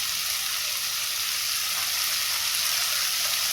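Ground coriander, chili and chili powder sizzle in hot oil in a pan for chana masala, a loud, even frying hiss that holds steady throughout without any voices.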